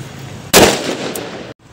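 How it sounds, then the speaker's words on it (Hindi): A single sharp firecracker blast bangs out suddenly, loud and close, its rumble lingering briefly before cutting off. "क्या पटाखा था भाई"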